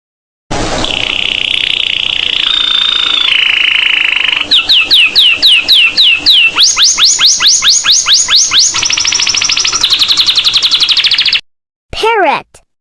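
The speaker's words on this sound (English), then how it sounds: "bulbul," A bulbul calls loudly and near in a fast series of whistled, sweeping notes, with sustained tones broken up by quick repeated chirps. After a short gap it gives one final sliding note.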